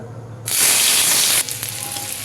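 Garlic drops into hot oil with a sudden loud, bright sizzle burst that lasts about a second, then settles into a quieter steady crackle close by; no talking.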